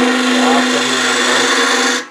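A wood turning tool cuts a spindle on a lathe for a birdhouse ornament, giving a steady, close, continuous scraping hiss with a constant motor hum underneath, then cutting off abruptly.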